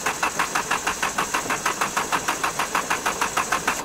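A brand new Honda car engine malfunctions, giving off a fast, steady rhythmic knocking pulse, about four beats per second, loud and close with no talking.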